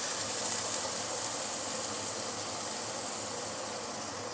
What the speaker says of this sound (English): we shall saute this for a minute or 2 before we continue